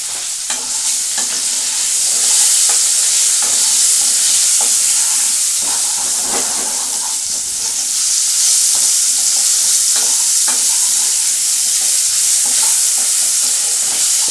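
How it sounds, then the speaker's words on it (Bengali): A pinch of turmeric being stirred into ingredients frying in a pan, with a continuous close sizzle and irregular spatula scrapes and taps against the metal, no voices. "এবার একটু এর মধ্যে মিশিয়ে দেবো সামান্য পরিমাণে হলুদ"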